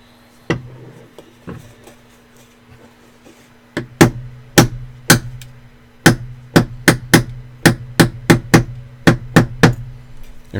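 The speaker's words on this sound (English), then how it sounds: "Interesting way of breaking off epoxy." Cured epoxy is broken off a glass construct with a series of sharp, close knocks and cracks, sparse at first, then coming in quick irregular bursts over a low steady hum.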